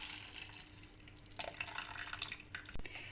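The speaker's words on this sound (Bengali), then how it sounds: "তো এখানে চিনির শিরাটা আমি এরকম একটা বোলের মধ্যে ঢেলে নিচ্ছি।" Sugar syrup poured from a pan into a bowl, a close, quiet liquid pour with light dripping and splashing, growing busier partway through and ending with a sharp knock.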